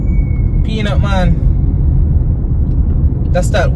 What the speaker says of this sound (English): That's that whistling sound that you just heard. That's the Peanut Man that we just passed.